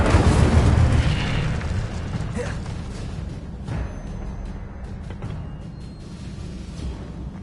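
Incendio fire spell blast in the game Hogwarts Legacy, a loud burst that opens the clip and then fades into a rumbling, crackling roar that stays fairly strong until the end.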